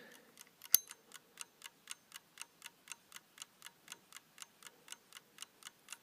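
Small, tiny clock from a rummage sale ticking with a second hand, a steady, even series of sharp, light ticks about three per second, close and alone in a quiet room.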